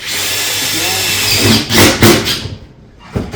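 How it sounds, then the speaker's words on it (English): Power drill driving fasteners into metal roofing panels near a valley pan, a loud close whir that rises, then ends in brief bursts and a clunk. "getting that fastener as close to the valley pan without going inside the valley pan. Fasten those as normal."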